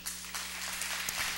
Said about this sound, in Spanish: que les diéramos un aplauso también